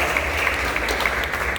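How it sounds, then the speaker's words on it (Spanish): A church congregation claps together in praise for the Lord during a Spanish-language service, a dense, continuous wash of applause close and loud throughout, with no talk over it. "Palmas al Señor"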